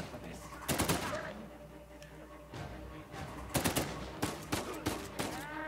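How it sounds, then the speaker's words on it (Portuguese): Enemy gunfire in the Uncharted 4 video game, arriving in several sharp bursts of rapid shots with a quieter stretch between them, while a voice talks in the background. "O cara vai atirar em você, mano."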